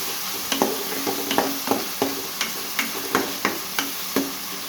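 Chicken pieces fry with turmeric and salt in a pan, a steady soft sizzle broken by a regular run of clear stirring scrapes about every half second, with no voices.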